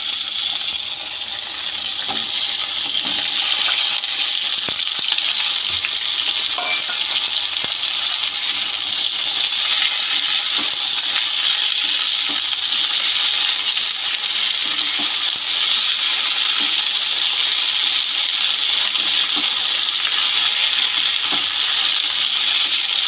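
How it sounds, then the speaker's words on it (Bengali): Chopped okra (dhenrosh) fries in oil in a kadai over a gas flame, giving a steady, dense sizzle with occasional stirring clinks, continuous and close with no talk. "ভেন্ডিটা আমি এতে দিয়ে দেবো ভাজবো"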